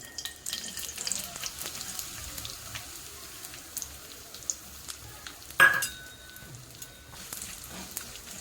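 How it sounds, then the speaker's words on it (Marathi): Ghee and jaggery heat in a kadai for cashew chikki, giving a soft, steady sizzle with faint stirring scrapes and one sharper clatter partway through, with no talking. "आता आपल्याला तूप टाकायचा आहे कढाईमध्ये त्याच्यानंतर हा गूळ टाकायचा आहे"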